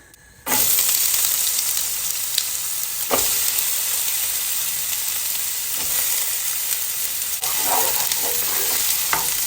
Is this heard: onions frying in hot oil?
yes